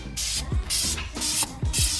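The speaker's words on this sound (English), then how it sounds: "let me see if I can show you guys how I'm spraying" An aerosol can of wheel dip sprays a Nissan 350Z wheel in four short, close hissing bursts with brief pauses between them, and a faint voice can be heard underneath.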